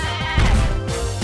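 Mudbray, a donkey Pokémon, calling out in Pokémon Moon: a loud, brayed, bleating cry with a wavering tone, heard alone for about a second.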